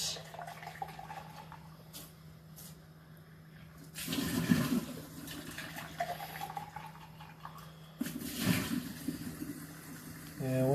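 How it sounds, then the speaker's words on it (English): Water splashing and rinsing inside a portable blender jar, with two surges of sloshing liquid against a steady faint hum and a few light knocks, close and moderately loud. "unscrew the top, pour out the soap, give it a little bit of a rinse"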